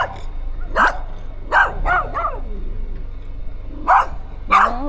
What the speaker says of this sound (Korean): 왜 짖어?